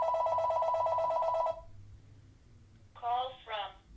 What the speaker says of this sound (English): I'll wait for this to stop ringing